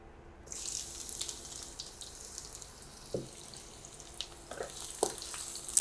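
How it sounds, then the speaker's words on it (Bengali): Whole cumin seeds drop into hot oil for a brinjal dish. A bright, hissing sizzle bursts in after a short silence and carries on steadily, close and fairly soft, with a few small pops and clinks. "আধা চামচের মতন আস্ত জিরা দিয়ে দিচ্ছি।"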